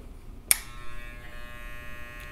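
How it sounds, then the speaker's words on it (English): An electric hair clipper switches on with a sharp click and then buzzes steadily, close up, while it lines up a haircut at the barber's chair; there is no talk. "place my brace, clipper to the head"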